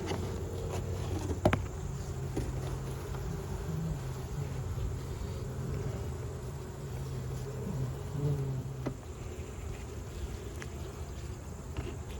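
Honey bees at a hive during goldenrod bloom, a continuous low buzzing hum, steady and moderately close, with a couple of faint knocks.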